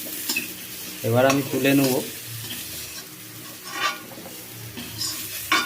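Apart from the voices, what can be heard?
stirring pumpkin and vegetables frying in oil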